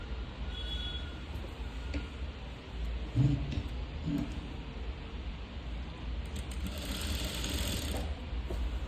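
An electric sewing machine hums steadily as it stitches a churidar neckline, a continuous mechanical whir with a faint rattle throughout.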